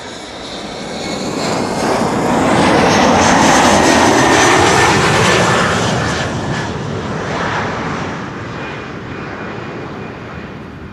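A KLM 737-900 jet airliner arriving at Amsterdam Schiphol Airport, a broad roaring engine rush that swells as it passes nearest, with a shifting whine, then slowly fades into the distance.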